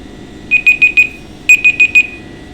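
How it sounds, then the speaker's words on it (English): A household reminder alarm beeps in two bursts of four quick, bright, evenly spaced tones, loud and close with a short pause between the groups and no talking. "that's my alarm telling me I need to go and get some washing out of the machine"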